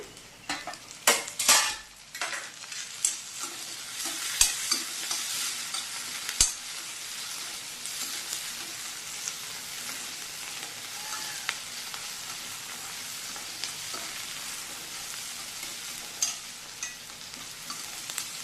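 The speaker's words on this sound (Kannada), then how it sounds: "ಈಗ ಟೊಮೆಟೊ ಹಾಕ್ಕೊಂಡು ಕೂಡ ಫ್ರೈ ಆಯಿತು." Tomatoes and onions fry in a pan for beans palya, a steady loud sizzle under repeated clatters and scrapes of a stirring spoon, busiest at the start.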